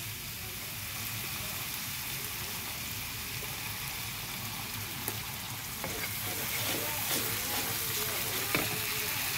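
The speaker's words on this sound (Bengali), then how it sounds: "এটা ভাজা ভাজা হোক।" Ginger frying in oil in a pan while being stirred, a steady, close, continuous sizzle with occasional soft scrapes, and no talking.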